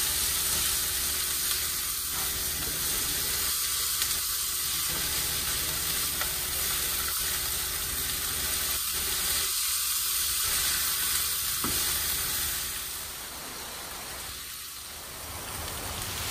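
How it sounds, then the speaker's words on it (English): Onions and peppers sauté in a home kitchen pan, giving a steady close sizzle with occasional stirring scrapes, continuous and fairly loud, then softening toward the end. "Saute the onions and the pepper."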